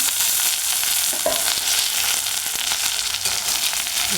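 Thin potato slices frying in a pan, a steady dense sizzle with occasional crackles and light scraping, close and continuous throughout.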